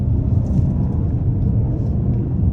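A 2022 Hyundai Santa Fe Calligraphy turbocharged engine pulls hard after a downshift, a steady, dense low rumble heard from inside the cabin with no break throughout.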